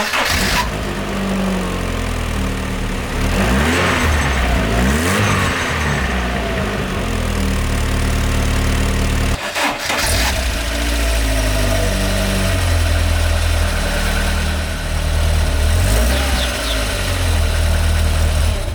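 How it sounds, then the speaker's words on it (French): An MG F car idles after repair of an exhaust leak located between its two lambda sensors. The engine runs loud and steady up close, with a brief break partway through before the idle resumes. "la voiture présente bien, elle est saine, elle fait désormais un bruit normal"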